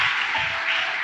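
A congregation clapping hands during a church worship service, a brief, continuous blur of many hands clapping together at moderate loudness, with no talk over it.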